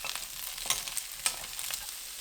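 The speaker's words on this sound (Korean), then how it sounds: "양파 넣고 30초 볶아주세요." Onions and sausage stir-fry in a pan for a potato-sausage dish, a soft, faint sizzle with a couple of light scrapes from the spatula.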